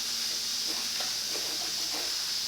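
Lacquer thinner sprayed onto Boss 302 engine parts during cleaning, heard as a steady close hiss of aerosol spray lasting a couple of seconds with faint clicks, no voices.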